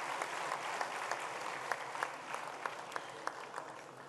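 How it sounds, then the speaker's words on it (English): Moderate audience applause as guests walk onto a stage at a formal ceremony, steady crowd clapping with a few sharper nearby claps standing out. "Help me give them a round of applause as they come onto the stage"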